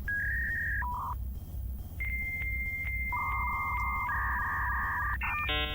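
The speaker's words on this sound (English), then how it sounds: "we got the dial up" A dial-up modem sound effect plays a sequence of steady electronic tones and beeps that shift between pitches before ending in a burst of handshake noise, with no talking.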